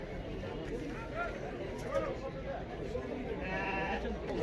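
Goats bleat at the Karabulak livestock market, with several short wavering calls from nearby animals over a busy crowd murmur while someone talks close by.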